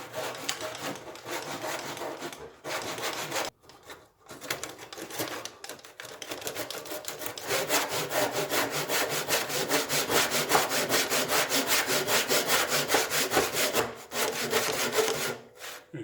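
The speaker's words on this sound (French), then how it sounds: "comme ma scie à dos arrive en butée" A back saw cuts through wood in a steady rhythmic rasp of quick strokes, close and clear, with a few brief pauses before a longer continuous stretch of sawing.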